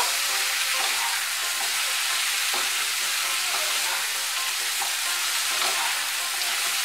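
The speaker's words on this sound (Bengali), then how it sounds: "হলুদ গুঁড়োটাও মিশিয়ে নেব" Turmeric powder being stirred into bitter gourd and pumpkin frying in a pan: a steady, loud sizzle throughout, with soft recurring scrapes of the spoon against the pan and no talking.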